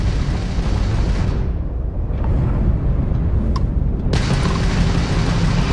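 Weapon fire from a Crimson Fleet ship during ship combat in Starfield, heavy booming blasts over a loud rumbling background, with a brief lull in the middle before a sharp burst returns the full roar.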